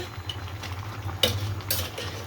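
Beef masala being stirred and sautéed in a pan, a steady low scraping with faint sizzle and a couple of brighter metal clinks, close and fairly quiet with no talk.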